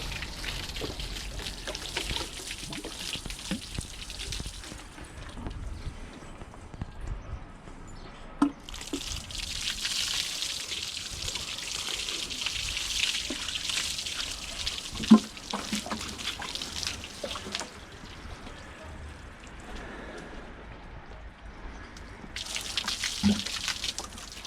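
Water runs steadily from a tap or hose while blue shampoo is rinsed off a dog, a continuous close trickling and splashing with a few sharper drips, fading and returning in waves.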